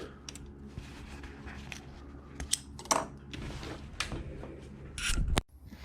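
Small scissors snipping loose threads from a dress shirt cuff, a few sharp close clicks and snips spaced irregularly among soft handling rustles, ending with a louder brush of fabric.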